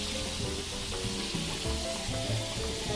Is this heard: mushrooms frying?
yes